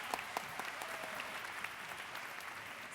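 Audience at a public meeting applauds representatives of fraternity and sorority groups, a fairly quiet, steady wash of clapping with a few sharper claps standing out.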